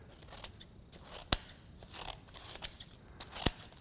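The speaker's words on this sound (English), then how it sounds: "Once I beat these scissors back into place, you can hear they sound pretty good." Inexpensive scissors, just knocked back into alignment, snip a few times with sharp isolated clicks, two standing out clearly against faint background noise.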